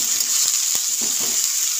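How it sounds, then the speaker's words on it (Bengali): Bottle gourd peel and potato frying in a pan with green chillies, stirred with a spatula: steady close sizzle with a few soft scraping strokes. "ভালোভাবে নাড়াচাড়া দিয়ে নেব।"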